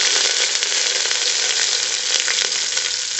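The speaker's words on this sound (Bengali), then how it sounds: "গাজর, বিনস দিয়ে ভালো করে একটু ভাজবো।" Carrots, beans and other chopped vegetables fry in mustard oil inside a pressure cooker with cumin, dried chilli and bay leaf, a loud, steady close-up sizzle that stays dense and even throughout, with no talking.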